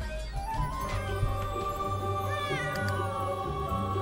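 A cat meowing repeatedly in a video game, drawn-out mewing calls over a steady hum of background game music, with no talk.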